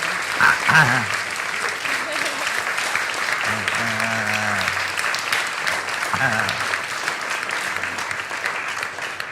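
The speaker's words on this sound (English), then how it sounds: "I don't know if we've actually given you a proper round of applause, so thank you." Steady applause from a symposium audience thanking the event organizers, a continuous wash of clapping with voices talking over it at intervals.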